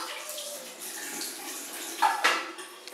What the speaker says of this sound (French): je le passe sous l'eau.